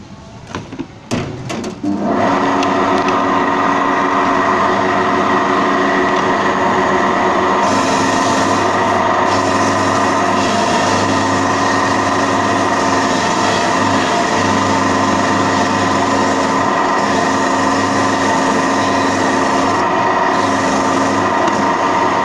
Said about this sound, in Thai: นี่ก็คือเครื่องขูดมะพร้าวนะครับ เดี๋ยวเรามาขูดมะพร้าวกันดูกันนะครับ